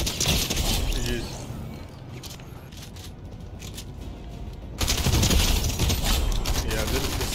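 Fortnite gunfire in solo play, loud rapid volleys of shots that come in two dense stretches with a quieter gap between, while a player talks throughout.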